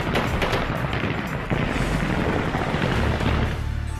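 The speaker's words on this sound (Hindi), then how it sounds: "काबुल एयरपोर्ट और काबुल की सड़कों पर तालिबान ने गोलियां दागकर जश्न मनाना शुरू कर दिया" Celebratory gunfire by the Taliban on the streets and at the airport in Kabul, a dense, continuous roar of shots and rumble heard from a distance with no clear gaps.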